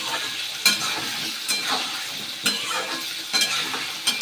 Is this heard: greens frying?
yes